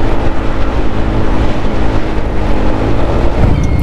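KYMCO scooter accelerating hard from a standstill to 60, a loud, steady engine drone with rising tonal whine filling the whole stretch, close and continuous.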